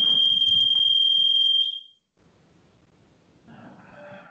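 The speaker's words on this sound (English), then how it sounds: "just some alarm went off" A loud, steady high-pitched electronic alarm tone, like a smoke detector, sounds continuously for about a second and a half during an online committee meeting, then cuts off, leaving faint room noise and some background rustling.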